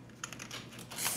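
Quick run of keystrokes on an AZOLT gCrusader half-mechanical rubber dome keyboard, a close, soft muted patter of several presses in rapid succession.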